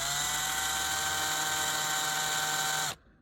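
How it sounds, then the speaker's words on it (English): A small drill whines at a steady high pitch while boring a pilot hole for tiny screws in a frame, running continuously for about three seconds before cutting off abruptly. "I'm gonna use this guy to kind of drill just a little bit"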